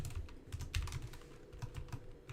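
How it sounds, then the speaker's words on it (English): Someone types on a computer keyboard in a quick, uneven patter of soft key clicks. The sound is quiet and close, with a low background hum and no speech. "while I'm typing this"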